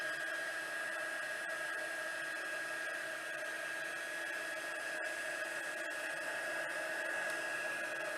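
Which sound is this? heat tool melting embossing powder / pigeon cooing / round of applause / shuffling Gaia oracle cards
heat tool melting embossing powder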